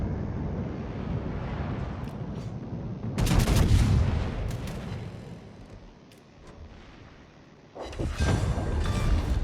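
Naval guns fire in World of Warships, heavy booming salvos near the start, around three seconds and again near the end, separated by a quieter rumbling lull.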